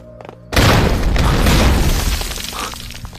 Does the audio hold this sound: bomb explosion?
yes